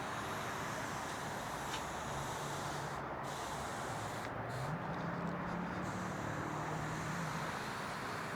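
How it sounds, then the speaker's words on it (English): A steady hiss of cleaner sprayed onto a car's front end runs throughout, with traffic rumbling faintly in the background. "just pre-spray the entire front end"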